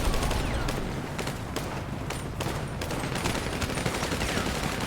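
Rapid pistol fire in a NoPixel GTA roleplay game, a dense run of sharp cracks packed closely together and continuing steadily over a loud, busy background.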